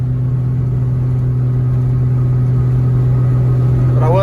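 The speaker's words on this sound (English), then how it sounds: "Boy, when it downshifts though," A diesel pickup truck with a Cummins-swapped Ford drivetrain and a blown turbo climbs a hill after a downshift, giving a loud, steady, close-up engine drone that holds at high revs throughout.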